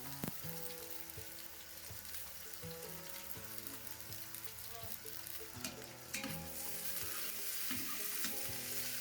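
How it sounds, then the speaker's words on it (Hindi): Onions sizzle and crackle steadily in hot oil, with occasional stirring clatter and faint background music. "प्याज को अच्छी तरीके से इसमें फ्राई कर लें"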